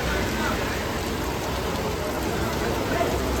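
Heavy rain at Ramanagara railway station, India, roars in a constant, dense wash of noise, loud and unbroken throughout.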